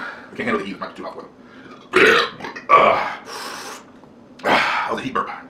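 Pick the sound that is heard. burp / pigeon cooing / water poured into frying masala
burp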